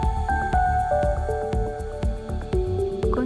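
Fish fry masala paste of ginger-garlic paste and lemon juice is stirred by hand, giving wet squishing and tapping strokes in a steady rhythm, close up, with a faint tonal hum behind it.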